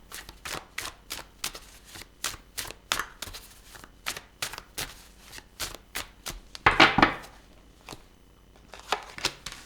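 Tarot cards are shuffled by hand in quick, crisp riffles and taps, a dense run of sharp paper flicks with a louder burst near the end; close, fairly quiet, no voices.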